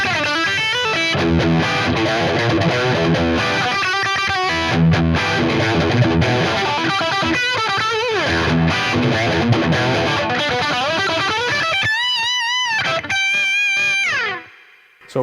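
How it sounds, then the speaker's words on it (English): Electric guitar played through a Boss Katana 50 amplifier on its high-gain lead channel, with sustained distorted lead lines, bends and shifting notes carrying loudly before cutting out near the end. "The lead channel is going to be a little bit more high gain, but it's going to give more mid punch like you would want from a lead sound."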